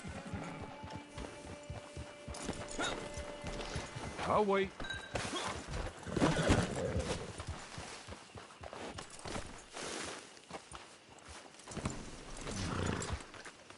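Horse hooves clip-clop at a walking pace in the Red Dead Redemption 2 game world, near and steady beneath intermittent talking voices, with a brief neigh partway through.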